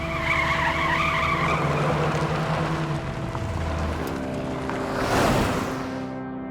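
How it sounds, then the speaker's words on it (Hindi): A jeep in a film action scene drives toward a mine, its engine note shifting and tyres scrubbing under a swelling music score, ending in a loud whooshing surge that then fades. "गाड़ी खदान की ओर लेकर चलो।"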